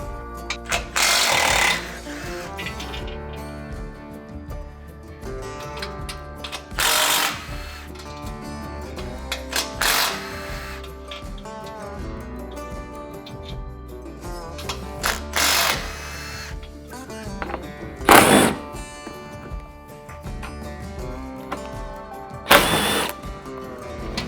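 A power tool whirs in bursts while 14mm and 10mm bolts come off the crash bar of a 2016-2022 Toyota Tacoma, loud rattling pulses breaking up a steady mechanical drone.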